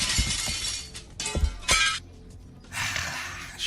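Glass shattering sound effect, several sharp bursts of breaking glass with bright crashing debris, loud and close, separated by brief gaps and ending in a longer scatter of tinkling shards.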